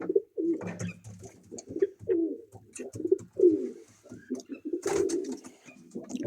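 Domestic pigeons in a breeding loft cooing repeatedly in close, rhythmic low rolling calls, with a few wing flutters and rustles between them.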